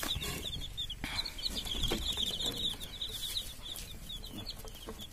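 Chickens cluck and chirp in short repeated high calls, fairly close, over a busy background of rustling and low rumble.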